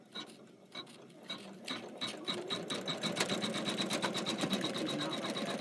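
A sewing machine stitches a zipper pouch, starting with a few slow, halting mechanical clicks that build into a fast, steady, close run of rapid stitching.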